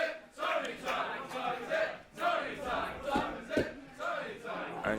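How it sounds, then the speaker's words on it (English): Wrestling crowd at a women's wrestling show, a low murmuring, rumbling mass of voices rising and falling in waves, subdued rather than cheering. "And you hear that the crowd. They're actually quite quiet here because they know."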